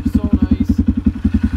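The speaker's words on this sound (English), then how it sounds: "Go for a nice ass quad ride right before dark." A quad ATV putters along a trail with a close, loud, steady chugging engine pulse at an even rapid rhythm.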